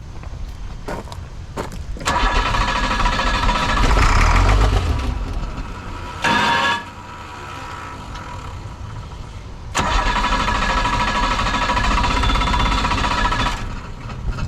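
A heavy sealcoat truck engine roars and sputters close by, surging loudly then dropping back in uneven bursts, as if struggling to run, with no one talking.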